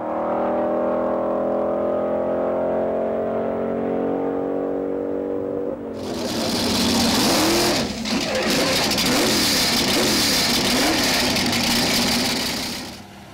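Early-1960s super stock drag racing cars at the 1964 NHRA U.S. Nationals at Indianapolis, including the Ram Chargers car and the Color Me Gone Dodge: a steady engine drone, then a loud, sustained roar of hard acceleration that fills the rest of the clip.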